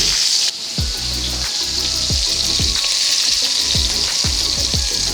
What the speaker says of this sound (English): Now, I like to give these a little smush as soon as I put them in the pan just to spread them out a little bit more